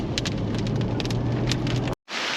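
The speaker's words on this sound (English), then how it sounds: "And it's pissing rain." Heavy tropical rain pours down at Cape Tribulation Beach in the Daintree, a dense, loud, constant hiss of drops with faint patter on raincoats, cutting out abruptly for an instant before resuming.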